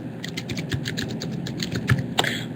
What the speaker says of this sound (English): I will just type my email address here.